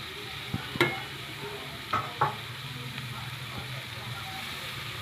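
Boiled banana flower going into a pan of potatoes, with a soft, low sizzle and a few sharp clicks and scrapes of a utensil against the pan.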